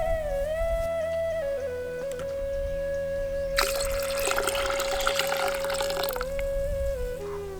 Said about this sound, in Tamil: இப்ப நம்ம எடுத்து வச்சிருந்த புளியில தண்ணி ஊத்தி ஊற வச்சிடலாம்.